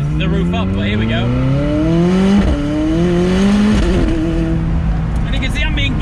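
McLaren 600LT Spider driven with the roof down on UK roads, its engine rising loudly through the revs in repeated pulls with gear changes, backed by wind rush close up.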